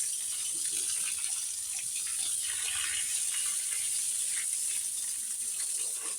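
A steady rush of water splashes and hisses without a break as a cow is doused for its bath, close and fairly loud throughout.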